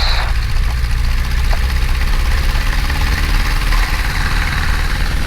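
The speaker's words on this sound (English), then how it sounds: "Do a quick full power run up since it's been a while." A Luscombe light airplane's piston engine runs at full power during a run-up, a steady loud drone with low-end vibration that holds unbroken from start to finish.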